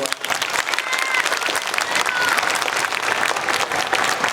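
Loud, dense applause from an audience at a middle school orchestra winter concert, sustained crowd clapping with some cheering and voices mixed in throughout.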